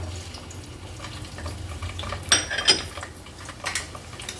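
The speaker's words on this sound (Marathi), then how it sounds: "आता फोडणीला आपण हा कांदा आणि हिरवी मिरची घालूया।" Onion and green chilli go into hot oil in a pot for the tempering of a traditional Agri-Koli mixed fish kanji, heard as a low sizzle with metal utensil clinks and scraping knocks against the pot, a few louder clatters near the end.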